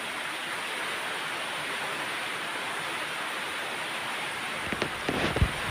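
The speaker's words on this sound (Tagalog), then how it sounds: "Lumakas na nga yung ulan." Dense, steady downpour of heavy rain drumming continuously on a sweet potato field, with a few closer knocks and thuds near the end.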